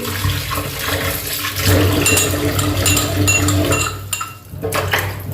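A tap runs hard into a sink as pieces of boneless chicken are rinsed at home, with a constant close rush of water, scattered clinks of a bowl or utensils, and a brief dip near the end.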